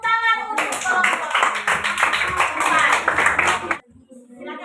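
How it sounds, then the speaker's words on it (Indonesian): Classroom applause for a student group, a burst of steady clapping from several people lasting about three seconds and then stopping abruptly, with a teacher's voice before it begins. "Oke, tepuk tangan untuk kelompok"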